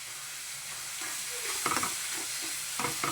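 Spinach and green garlic leaves frying and being stirred in oil, a steady close sizzle with bursts of louder scraping and crackle toward the end.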